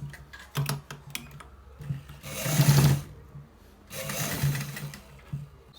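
A sewing machine stitches a designer shirt collar in several bursts, its fast mechanical whir rising and falling as it runs, pauses briefly and starts again, close and fairly loud with no talking.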